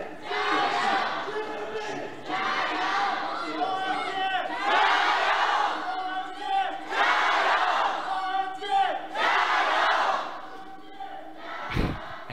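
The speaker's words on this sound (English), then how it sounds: "the OMG fans taking the victory in that cheering contest" A large arena crowd of OMG fans at an LPL Summer Split esports match in Chengdu roars and chants in rolling waves of cheering, loud and sustained, with surges and brief dips.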